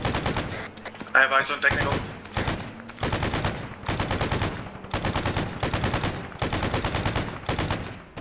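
Bursts of heavy mounted-gun fire from vehicle weapons in the military shooter Arma 3 hammer out in regular volleys, loud and close, with a voice speaking briefly over the shooting at the start.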